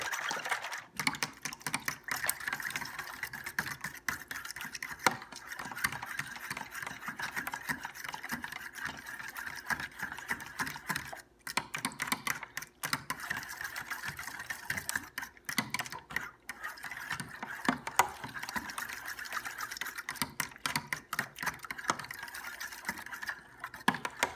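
Eggs beaten and yolks broken for French toast, making a rapid, steady clicking and tapping of a utensil against a bowl that runs continuously and close up, with no talking.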